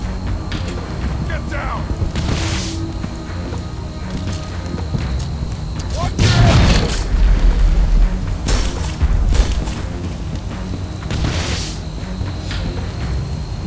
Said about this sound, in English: once a frag grenade actually did something useful